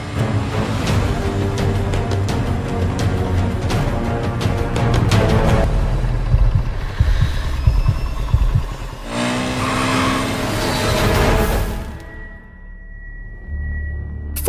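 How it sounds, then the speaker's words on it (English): A car engine revving hard and racing close by as a drama sound effect, a loud sustained roar that rises in pitch before cutting off, with a brief high whine left behind. "a car came out of nowhere behind us"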